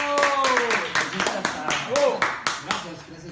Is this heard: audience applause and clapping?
yes